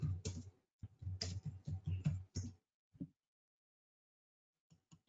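Bursts of computer keyboard typing, rapid clustered key clicks close up and fairly loud for about two and a half seconds, then a pause and a few scattered taps near the end.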